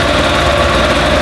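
A Yamaha YZF1000R Thunderace motorcycle engine running just after its first start following a rebuild, a loud, close, steady idle with a mechanical, slightly knocking texture.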